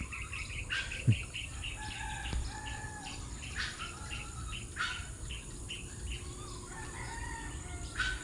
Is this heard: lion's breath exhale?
no